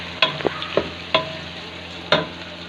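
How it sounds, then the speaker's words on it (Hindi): Garlic and ginger paste fries with bitter gourd in a pan, giving a steady close sizzle broken by a few sharp spatula scrapes and clinks. "अब हम इसके अंदर लहसुन और अदरक का पेस्ट डालेंगे। और इसको साथ ब्राउन कर लेंगे।"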